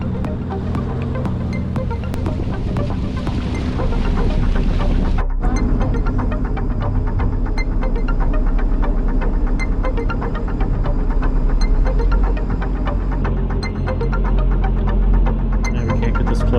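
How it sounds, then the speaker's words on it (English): A powerboat's engine throbs steadily and loudly as it runs over the water on a calm day in the Gulf of Mexico, a continuous droning hum with no talking. "we couldn't resist taking our powerboat out for a quick spin"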